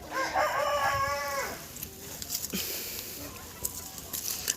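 A young Cochin rooster crows once loudly and close, a long harmonic call in the first couple of seconds, followed by quieter clucks and scratching sounds.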